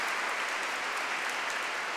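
Steady, dense audience applause in a University of Chicago lecture hall, an even wash of many hands clapping at once with no pauses, alone and fairly close.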